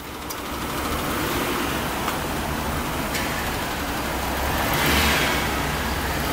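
A 2001 Ford Crown Victoria Police Interceptor drives along with a steady broadband engine and road rumble. The level swells gently toward the end, as if the car is picking up a little speed, and no one speaks.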